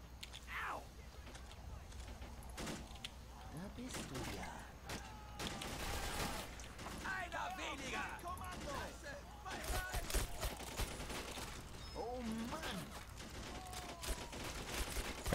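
Machine gun bursts and scattered gunfire in the World War II strategy game Men of War Assault Squad 2, trench combat sounding as repeated sharp cracks and rattling volleys, mixed with other battle noise and voice lines.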